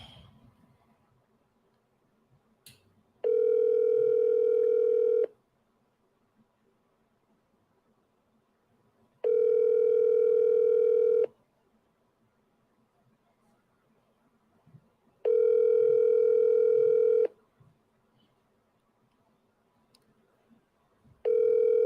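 Telephone ringback tone after dialing a number, heard as three steady two-second tone bursts separated by about four seconds of near silence, with a fourth beginning at the very end.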